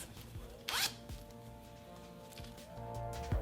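A zipper on a hand-knitted cat jacket made from yarn is pulled and handled up close, giving a few quick, faint zipping rasps and small clicks against quiet room noise.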